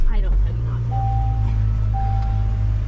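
A car engine cranks briefly and catches, settling into a steady low idle rumble close by.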